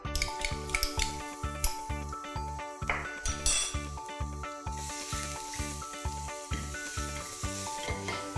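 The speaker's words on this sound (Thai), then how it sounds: "เริ่มจากตั้งกระทะใส่น้ำมันรอให้ร้อนนะคะ แล้วก็ใส่กระเทียมลงไปผัดค่ะ" Garlic sizzles in hot oil in a wok as a utensil stirs and scrapes the pan, with repeated metallic clinks in a busy, uneven rhythm close by.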